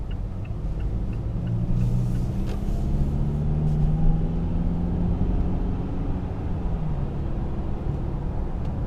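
A 2018 Mazda CX-9 Grand Touring rolls over a large road bump, giving a steady low cabin rumble of engine and road noise with no sharp jolt standing out, continuous and fairly loud throughout.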